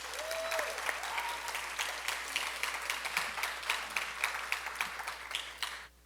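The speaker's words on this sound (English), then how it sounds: "Let's all give Shreya a big round of applause for her great performance so far" Audience applause fills a Bharatanatyam arangetram hall for the dancer Shreya: dense, steady clapping from a sizable crowd that carries for about six seconds before cutting off sharply.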